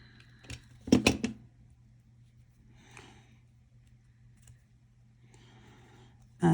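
A sharp cluster of clicks and snips comes from a cutting tool trimming a plastic Battletech miniature, followed by a few faint scraping sounds in otherwise quiet surroundings.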